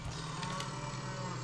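A cow in the video game Crane Simulator lows in a steady, faint drone under a continuous wash of game background noise.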